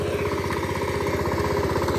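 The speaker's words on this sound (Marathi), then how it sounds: "त्या कोपऱ्यात नांगरूचा ट्रॅक्टर लावतो" A tractor engine working in a muddy rice paddy for ploughing thrums with a steady, rapid chugging pulse at close range, never easing or revving during the short stretch.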